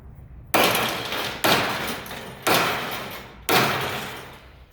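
Strings are cut one by one while an old piano is dismantled. Each cut lands as a loud metallic crash that rings out and fades, four evenly spaced hits about a second apart, heard close with no talking.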